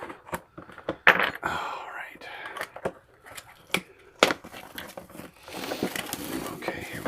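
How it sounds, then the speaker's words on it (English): Plastic wrapping being torn open on a resin model kit of a transporter drone, heard as sharp, irregular crinkles and snaps close to the microphone, with a longer rustling patch toward the end. "It's all resin, so let's break the plastic here."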